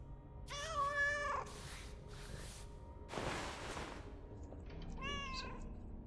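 A cat gives a couple of clear meows, one at the start and another near the end, separated by bursts of broadband noise, with no talk.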